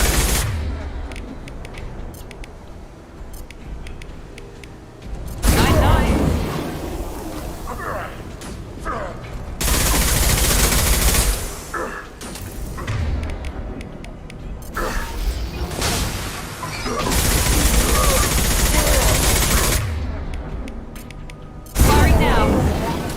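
Video game gunfire comes in loud sustained bursts of rapid shots separated by quieter stretches, with a voice talking at times over the action.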